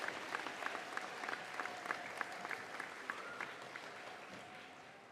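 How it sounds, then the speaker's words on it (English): Students at a fifth-grade school celebration give steady applause, a soft, distant patter of many hands that carries on evenly and tapers slightly toward the end. "Students, please give your families a round of applause."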